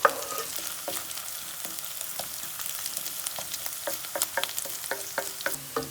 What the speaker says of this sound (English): I'm going to add ginger and red chilli. Then fry till the brown again.